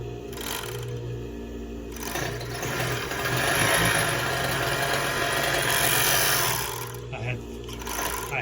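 A Willcox & Gibbs 500 overlock sewing machine runs in a steady mechanical whir that rises in the middle stretch and eases near the end, with faint talk at times.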